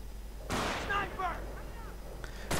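A sharp sniper rifle shot goes off in a World War II strategy game, a sudden loud crack followed by a ringing tail, then another shot near the end, with a voice talking over the gunfire.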